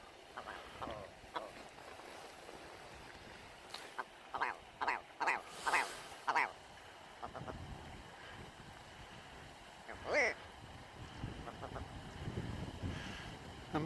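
A red grouse calls on Barden Moor near a reservoir on a winter day, close by, giving a series of rapid clucking, croaking notes in a burst, then a later call, over wind noise with no talking.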